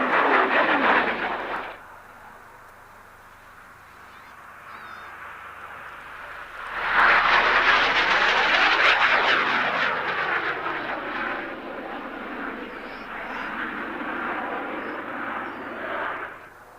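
Gloster Meteor jet fighter passing overhead, a loud swelling jet roar that rises sharply, sweeps past with a falling tone and lingers as a sustained rumble fading out.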